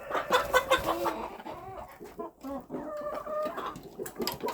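Several chickens cluck and squawk close by in busy, overlapping bursts, with a rooster-like call in the middle; no talking.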